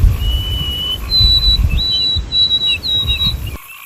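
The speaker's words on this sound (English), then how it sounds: "From the woods, the white-throated sparrow." White-throated sparrow in the woods singing a series of clear, sustained whistled notes that step slightly in pitch, bright and fairly close over a low rumbling background.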